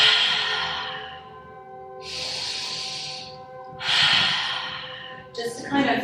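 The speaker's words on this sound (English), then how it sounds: "First of all, in through the nose and out through the mouth." Slow breathing exercise during a beginner yoga session: long audible breaths in through the nose and out through the mouth, three breathy whooshes separated by pauses, with an instructor's voice under them.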